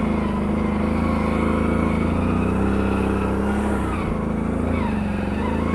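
An ATV on 31-inch MotoHavok tires rides along straight asphalt on a hot summer day, its engine droning steadily and loud throughout, with a slight dip in pitch near the middle before picking back up.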